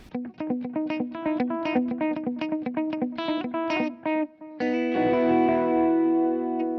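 Electric guitar notes repeated in a rapid, stuttering blur from a fast delay on a Chase Bliss Audio Tonal Recall pedal, followed by a sustained chord ringing out with effect trails.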